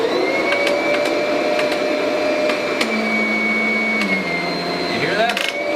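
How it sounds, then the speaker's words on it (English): Kirby vacuum cleaner running on carpet with a steady motor drone, its pitch shifting as the head seals down onto the carpet and the tone dropping and changing near the end. "So that's the Kirby sealing to the carpet."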